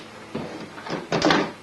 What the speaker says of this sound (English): The lid will lift right out.